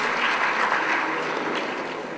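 Audience applause at G R D College, a dense, steady wash of many hands clapping close and fairly loud throughout, with no voices over it.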